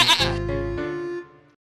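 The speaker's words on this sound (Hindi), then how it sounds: "तो क्यों नहीं हो सकता बकरी का नाम शेरनी?" A goat lets out a single loud, close bleat, a wavering nasal cry that rises and then trails off to silence within about a second and a half.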